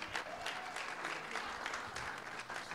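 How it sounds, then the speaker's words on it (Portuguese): An audience claps steadily and warmly at a live stage hypnosis show, a dense, even wash of applause lasting a few seconds with faint crowd murmur beneath. "Ela ia gostar de uma salva de palmas de vocês"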